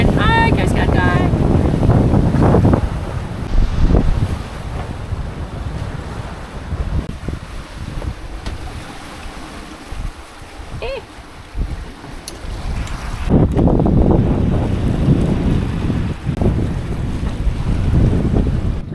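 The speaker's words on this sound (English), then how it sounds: "the wind has stayed up, so it's actually really pleasant sailing conditions right now" Strong wind roars across the microphone aboard a cruising sailboat off the Turkish coast, steady and loud for the full stretch, with water rushing around the hull and a brief lull in the middle before the gusts build again.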